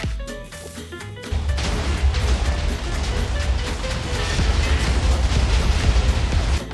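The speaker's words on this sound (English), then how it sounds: "Why do I hear explosions?" Explosions from TNT blasts in Minecraft while tunnel mining, starting with a brief quieter section and then a loud, continuous rumbling roar of overlapping blasts that lasts to the end.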